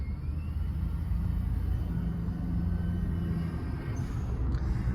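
Inside the cabin of a Suzuki Wagon R fitted with an Apexi aftermarket exhaust, a steady low engine drone and road rumble hold evenly throughout, muffled and constant, with no talking.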